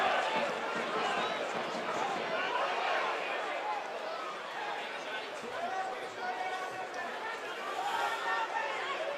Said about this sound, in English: And that's got the crowd going.